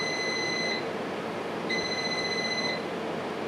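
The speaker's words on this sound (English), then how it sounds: "there's the beep." Two electronic beeps, each a steady high-pitched tone lasting about a second, separated by a short gap, fairly clear over a low background hiss.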